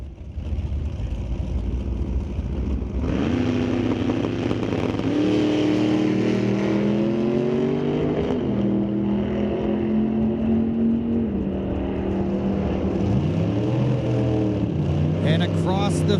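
A red Chevelle with black Super Sport stripes and a Model A launch together at a drag strip, loud engines roaring and rising in pitch as they pull away, with an announcer talking over the racket.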